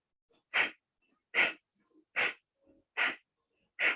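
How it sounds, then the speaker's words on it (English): Sharp, forceful breaths pushed out through the nose during a yoga breathing exercise, five evenly spaced bursts about one per second, close and loud with near silence in between. "Inhale and exhale and begin."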